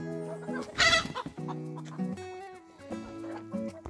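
Farm hens cluck and murmur close by in short, irregular bursts, with one louder squawk near the start, with no voices heard.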